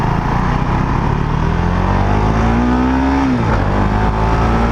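A 2019 Husqvarna 701 Vitpilen motorcycle accelerating hard into a wheelie, its single-cylinder engine revving up steadily and loudly, then dropping sharply as the throttle eases.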